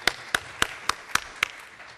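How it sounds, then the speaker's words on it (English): A lone pair of hands claps six times at a steady, unhurried pace, crisp and close, for the judges at a high school competition final round, with no crowd joining in. "So a round of applause, please, for our judges"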